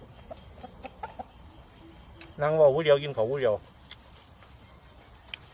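A chicken lets out a short, loud burst of clucking lasting about a second, close by, while someone talks in Thai Isan dialect before and after it.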